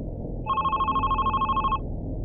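Electronic phone ringtone in a pixel-art horror video game, a steady warbling two-tone ring lasting just over a second, clear and close over a low background hum.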